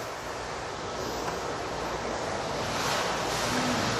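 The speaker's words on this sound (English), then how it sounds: "So we are obviously hot water extracting this" A hot water extraction carpet cleaning machine runs on commercial carpet with a steady, loud broadband whoosh of suction and spray, constant throughout with no speech.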